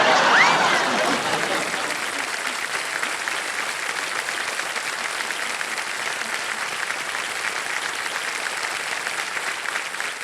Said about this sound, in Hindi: और जितनी महिलाएं बैठी हैं सब ताली बजा रहे हैं